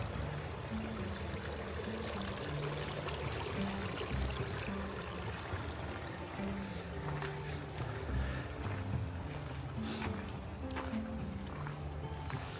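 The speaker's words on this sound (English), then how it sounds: "Nice little river." A small river at an old rancho in Southern California flows steadily with a soft, continuous rush and trickle heard from nearby, with no talking over it.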